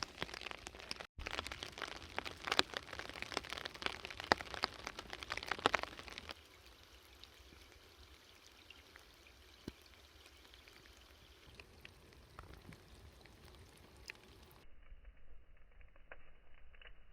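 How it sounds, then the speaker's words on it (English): Rain pattering and pouring steadily on a remote island campsite with a hammock and small bonfire, louder at first then settling into a quieter constant patter with occasional sharp drips and cracks. "It really started raining."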